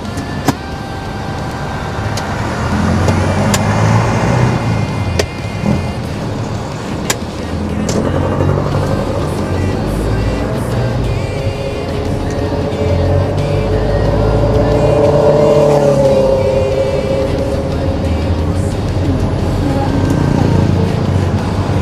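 A vehicle pulls away and drives along a road, its engine and tire noise steady and close while someone talks over it throughout, with a rising, revving tone building midway.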